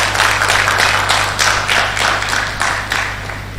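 Applause for Dr. Abraham O. Oladebe at a science laboratory technology induction ceremony: a steady wash of many hands clapping together, loud and continuous for the whole stretch over a constant low hum.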